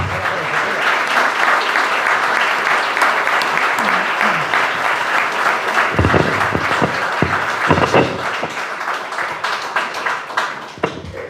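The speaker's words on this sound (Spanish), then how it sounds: "Un aplauso para ellos." Sustained audience applause fills a room at a book presentation, dense and loud, thinning toward the end into a few separate claps and knocks, with faint voices mixed in.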